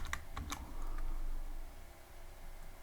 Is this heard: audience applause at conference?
no